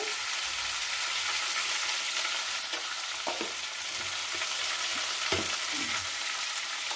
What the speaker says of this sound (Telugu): ఇలా కొంచెము మెంతుకూర వేగాలండి కొంచెము